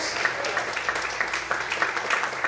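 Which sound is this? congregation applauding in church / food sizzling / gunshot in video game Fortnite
congregation applauding in church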